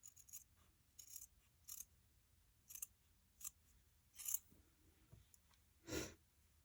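Scissors cut fleece fabric for a small stuffed bear with a series of quiet, crisp snips at irregular intervals. The last snip is longer and heavier, and there is no talk.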